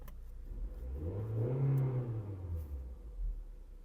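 A used Skoda Fabia imported from Germany with 126,000 km runs close up, its engine revving up into a swelling hum and easing back down in one steady, fairly loud sweep.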